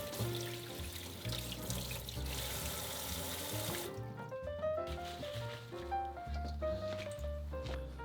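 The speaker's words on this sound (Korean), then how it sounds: "1차 손질이 끝난 알타리무는 흐르는 물에 깨끗하게 씻어주세요." Young ponytail radishes for chonggak kimchi washed under a running tap, with a continuous splash of water into a sink and shifting gurgles as the flow hits the vegetables, close and moderate.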